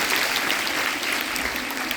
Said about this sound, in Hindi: जोरदार तालियां पूजा के लिए।